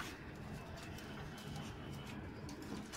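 Pigeons cooing faintly from a distance at a rooftop loft, low soft murmurs repeating steadily over a constant hiss of outdoor background noise.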